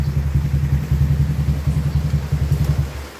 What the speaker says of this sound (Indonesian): Bentar ya, kita matiin dulu motornya.